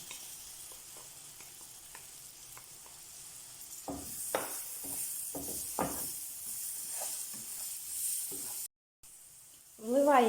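Flour fries in a hot pan with a steady sizzle while a utensil scrapes and stirs now and then, with a louder burst at the end.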